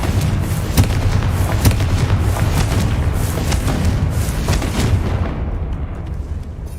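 A Confringo fire spell detonates in Hogwarts Legacy: loud, continuous booming blasts with sharp cracks and a rumbling tail that cuts off near the end, with no voices.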